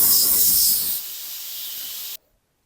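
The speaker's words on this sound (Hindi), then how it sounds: "ये सारा प्रेशर जो कुकर का है वो हम निकाल देंगे" A pressure cooker holding dal vents its steam pressure in a loud, steady hiss that drops to a softer, continuous jet after about one second and then cuts off abruptly, leaving silence.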